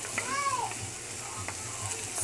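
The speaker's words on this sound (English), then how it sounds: "You want to continue to stir it up so it won't" Pork chop stuffing sizzles softly in a frying pan while being stirred, a steady low hiss with faint clinks and no talking.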